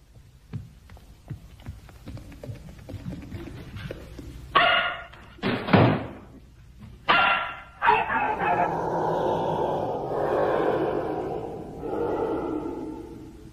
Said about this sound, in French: Pourquoi est-ce que tu aboies comme ça?